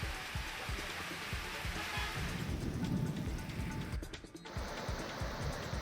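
Rain falls steadily in Jalna, Maharashtra, as a faint, even hiss of drops with low rumbling underneath and a brief dip near the end.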